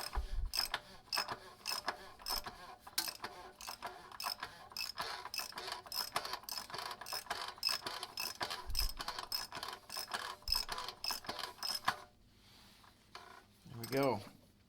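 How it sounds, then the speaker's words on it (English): A ratchet clicks in a steady rapid run while tightening a plastic oil filter housing on a Hyundai Genesis sedan's 4.6L V8 during an oil change, with brief talk near the end. "Go ahead and put the ratchet back on it"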